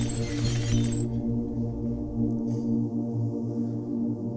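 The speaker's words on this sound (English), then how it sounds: "and the glass bottles come crashing down" Glass bottles crash to the floor and shatter in a bright burst of breaking glass lasting about a second, over a steady low rumbling drone that continues afterward.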